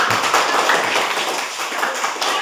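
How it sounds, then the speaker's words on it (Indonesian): A class applauds a student group after its presentation, a steady wash of many hands clapping together, fairly loud and continuous without any clear gaps. "Oke, tepuk tangan untuk kelompok."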